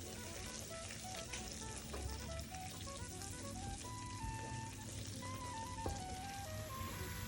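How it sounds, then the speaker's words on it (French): Sweet paprika and turmeric sizzling gently in a pan as they fry, a continuous soft crackle with small pops, heard close and alone with no talking. "Je mélange et je laisse cuire un peu les épices"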